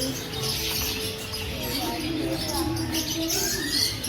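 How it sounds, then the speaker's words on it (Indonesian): Many caged birds chirp and tweet at Pramuka bird market, a busy, overlapping chorus of small calls and cooing against faint crowd murmur, moderately distant. "Ramai burungnya, bukan ramai orang."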